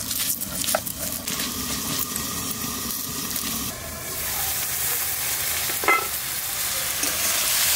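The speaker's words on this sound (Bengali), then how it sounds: "একটু লাল করে ভেজে নিচ্ছি," Broad bean seeds fry in a pan with a steady hiss and crackle, stirred now and then with soft scraping, close and continuous without talk.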